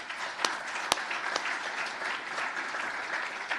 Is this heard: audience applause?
yes